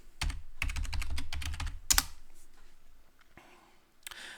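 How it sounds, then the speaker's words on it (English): Clicky run of keystrokes on a computer keyboard while entering a package name into an Ubuntu 18.04 search field, fast and close, then a pause and a single later tap. "So let's type that in correctly."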